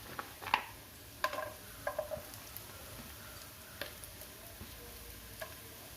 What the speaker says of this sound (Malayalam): ഇത് നമുക്ക് വെളിച്ചെണ്ണയ്ക്കകത്തിട്ട് നന്നായിട്ട് മൂപ്പിച്ചെടുക്കണം